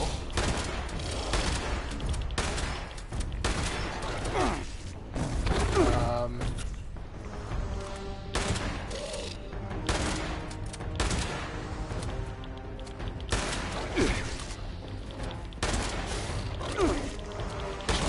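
Repeated gunfire in the Fallout 76 video game, bursts of shots and booming impacts recurring across the whole stretch, loud and close, mixed with game sounds and talking.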